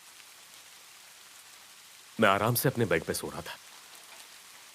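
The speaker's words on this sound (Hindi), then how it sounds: "खिड़की के बाहर बारिश हो रही थी" Steady rain falls outside a bedroom window at night, a soft continuous hiss running under the whole stretch while someone talks calmly over the middle part.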